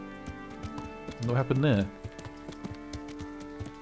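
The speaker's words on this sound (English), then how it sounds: "I feel quite cool being on my horse, going at quite a slow pace" Horse hooves clip-clopping at a slow walking pace in Kingdom Come: Deliverance, a regular rhythm of light thuds under a voice asking a question.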